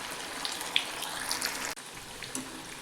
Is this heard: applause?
no